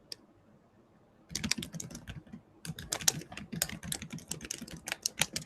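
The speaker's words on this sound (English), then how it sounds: "That's why you hear my keyboard typing." Rapid computer keyboard typing at a home reading session, a quiet pause and then dense, irregular clicking keystrokes in close, steady bursts with no talking.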